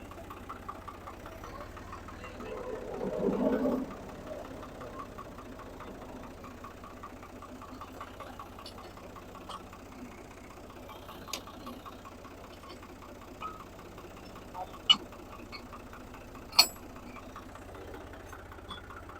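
A tractor engine idles at a farm tractor contest, an HP65 against an MF260, as a low, steady, quiet rumble with a brief swell early on and a few sharp clicks and knocks near the end.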